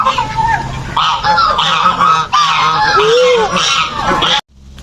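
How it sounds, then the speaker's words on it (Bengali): Large ducks or geese in a park in Malaysia honk repeatedly at close range in overlapping, uneven calls, and the sound cuts off abruptly near the end. "যে হাঁসগুলোর সাথে গল্প করা শুরু করে দিছে এগুলো বিশাল বড় সাইজের আর এই পাশে হচ্ছে আমাদের দেশি হাঁস আছে"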